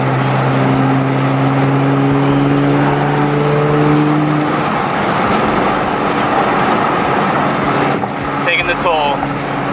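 A Nissan GT-R with an automatic gearbox drives through traffic toward a toll, its engine a steady, loud drone with a rising pitch early on and faint other noise near the end.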